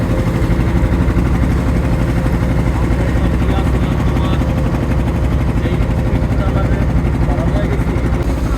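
A fishing trawler engine runs loud and close, a steady, unbroken mechanical drone the whole time, on the water off Dhal Char and Char Kukri Mukri.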